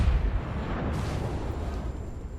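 Main guns of the battleship Texas fire in World of Warships, a loud booming artillery blast at the start that rolls into a sustained low rumble lasting the whole moment.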